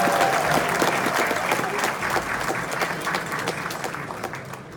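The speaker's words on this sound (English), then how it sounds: "Let's have a round of applause for Diane." Attendees at a Republican Party endorsement meeting in San Diego applaud a candidate as she comes up, a dense burst of clapping that slowly thins and fades.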